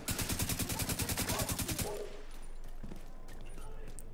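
A rapid burst of automatic gunfire in the shooter video game The Division 2, about twenty sharp evenly spaced shots, cuts off abruptly and leaves quiet background game ambience with faint scattered noises.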